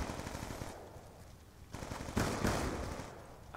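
Rapid bursts of gunfire from the Black Ops 2 video game crackle in quick succession, fading briefly before louder volleys return near the end, with no speech over them.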